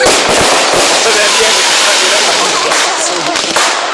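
Fireworks bursting at a village display: a loud, continuous crackling roar of many overlapping pops and bangs over four seconds, with a few sharper cracks near the end and some crowd voices faintly underneath.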